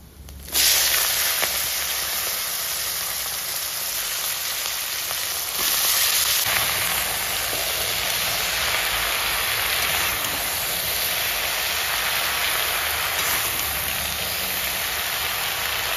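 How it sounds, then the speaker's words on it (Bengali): Dried chillies, bay leaf, chopped ginger and panch phoron sizzle in hot oil, a loud, steady hiss and crackle that starts abruptly and carries on continuously without talk. "তেলের মধ্যে শুকনো লঙ্কা, তেজপাতা, আদা কুচি, পাঁচফোড়ন"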